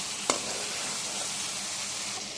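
Spice paste for a pangas fish curry with potatoes fries in a pan with a continuous close sizzle, and a single sharp stir or scrape sounds near the start.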